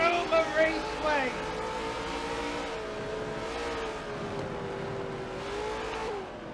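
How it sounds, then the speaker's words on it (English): Race car engines from a NASCAR video game at Sonoma Raceway, a steady whining drone rising and falling in pitch as the cars run, heard close under an excited commentator's voice. "Let's go racing at the Sonoma Raceway!"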